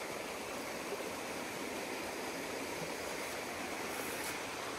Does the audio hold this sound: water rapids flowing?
yes